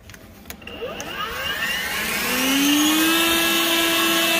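A Litheli 40v brushless leaf blower on turbo spins up from a few clicks into a rising whine that climbs in pitch, then settles into a steady, loud, airy roar as it blows leaves.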